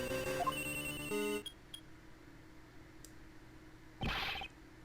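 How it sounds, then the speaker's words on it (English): Cell phones ringing in the Ace Attorney Investigations video game, a loud electronic ringtone melody for over a second followed by a few short beeps and a later burst of brighter chiming. "Why is everybody's phone ringing?"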